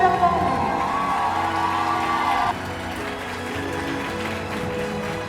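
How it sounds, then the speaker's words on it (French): An audience at a costumed witches' ball applauds and cheers for a teacher. The steady clapping is layered with whoops and children's shouts, louder at first with a tonal backing that drops out midway, then a sustained crowd roar. "Applaudissez fort mon professeur Timberland."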